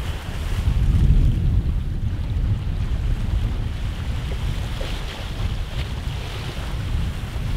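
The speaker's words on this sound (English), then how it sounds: "On our last morning there was quite some wind and waves" Strong wind and waves at sea buffet a small trimaran offshore, a continuous low roar of gusts against the microphone with water rushing and splashing around the hull, peaking early and then holding steady.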